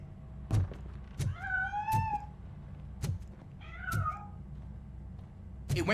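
A cat in the video game RoboCop: Rogue City meows several times in clear drawn-out cries, set against low game ambience and a few sharp thuds as it runs off and escapes.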